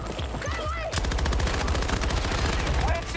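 Rapid automatic gunfire from the Battlefield 2042 video game, a dense, loud, continuous stream of shots, starts about a second in after a brief moment of voice and game sounds.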